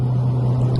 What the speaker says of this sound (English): you just feel this build up of turbo boost